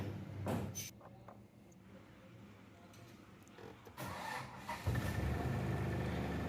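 A car engine starting after an RPM meter kit and relay are fitted, with a few clicks and a brief crank before the engine catches into a louder running rumble near the end.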